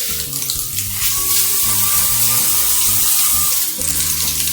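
A hotel's floating shower head runs with a continuous hiss of water spraying close by, loud and steady, with a faint tone underneath.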